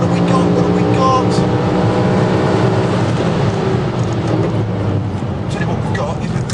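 A Nissan R35 GT-R engine screams at around 8250 rpm in fourth gear on a race track, a loud, steady, close droning roar that barely wavers throughout.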